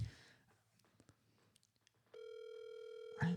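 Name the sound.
phone call ringing tone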